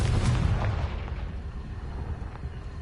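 A Confringo blasting spell explodes in the video game Hogwarts Legacy: one heavy, booming blast right at the start, then a low rumble that slowly fades.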